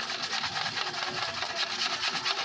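Sandpaper rasps back and forth over a scratched gas tank surface in quick, steady strokes, close and fairly loud with an even scratching rhythm.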